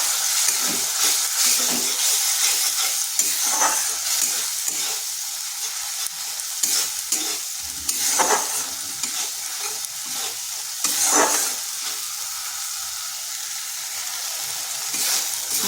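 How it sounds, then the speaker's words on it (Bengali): Spice paste with green chillies and a splash of water is stirred and fried in a wok, a steady sizzle broken by repeated scraping strokes of the spoon, close and alone. "এরপর বেশ কিছুক্ষণ মশলাটাকে কষে নিতে হবে।"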